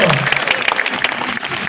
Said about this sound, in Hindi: ताली बजाओ, फिर आगे बढ़ाया जाए।